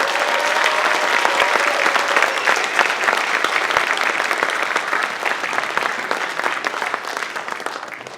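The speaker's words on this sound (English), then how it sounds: "Can we give her a big round of applause tonight?" Sustained audience applause at a school percussion concert, fairly near and dense, holding steady for several seconds before tapering slightly at the end.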